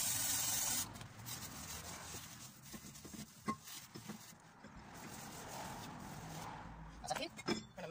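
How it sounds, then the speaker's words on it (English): Brake cleaner sprayed onto a new rear brake disc on a Hyundai Tucson, a loud hissing burst at the start followed by softer rubbing and handling noises in a workshop. "So, I've got the brake cleaner."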